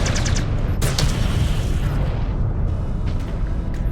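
Heavy booming explosions from tanks being destroyed in the MechWarrior Clans video game, a loud continuous roar of blasts with sharp bursts near the start, rumbling dense and close throughout without talk.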